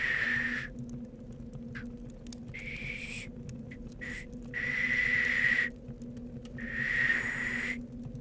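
A person tries to imitate whistling beside a campfire, producing several breathy, wavering whistle tones in short bursts separated by pauses, over a constant low background hum.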